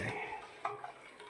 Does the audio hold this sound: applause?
no